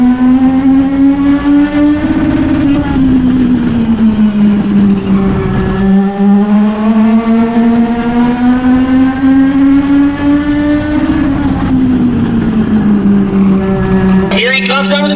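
Race cars roar around the track at a memorial race, a loud, sustained engine drone whose pitch rises and falls as cars pass, with a brief screech near the end and a commentator's voice running over it.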